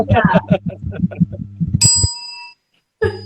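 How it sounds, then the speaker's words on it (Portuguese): A small bell rings during a live homeopathy podcast. Someone talks first, then a bright, sustained ding sounds alone and fades, followed by a brief second ring as speech resumes. "Olha o sininho, minha gente."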